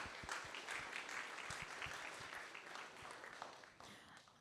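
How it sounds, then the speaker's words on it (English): Workshop audience applauding a presenting team, a dense, fairly quiet patter of many hands clapping continuously and easing off slightly toward the end, with no speech. "One more round of applause for the EDIF team"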